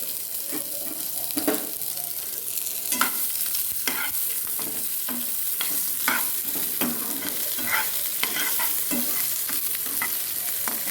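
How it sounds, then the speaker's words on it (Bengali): Onion frying in hot oil crackles and sizzles up close, with brisk stirring scrapes and clicks recurring throughout and no voices. "এদিকে আমার তেলটাও মোটামুটি গরম হয়ে গেছে। এবার পেঁয়াজটা ভেজে নিই আগে।"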